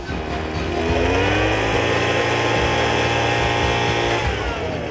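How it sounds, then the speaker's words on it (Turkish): A Tulsan petrol-engine tea harvesting machine runs loud and close, a steady buzzing two-stroke-style drone that rises slightly in pitch and holds throughout, with no talking. "Tulsan çay toplama makinesi tüm yetkili bayilerimizde."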